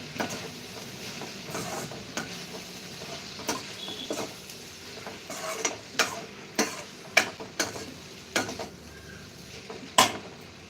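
Okra curry cooking in a pan, a spoon tapping and scraping in irregular clicks that grow denser toward the end over a faint sizzle, fairly quiet with no talking.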